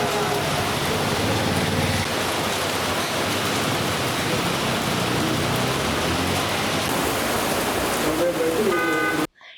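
Heavy rain pouring for about an hour in Andhra Pradesh and flooding low-lying areas, a dense, constant hiss of downpour that stays loud and even, with a faint voice surfacing just before it cuts off.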